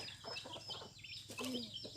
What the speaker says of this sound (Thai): นี่ไก่ครับ